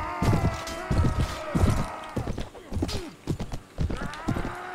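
Horses in the Mount&Blade Warband Brytenwalda battle game clatter with rapid, overlapping hoofbeats while a horse neighs and whinnies, the clip-clop continuing loudly amid the fighting.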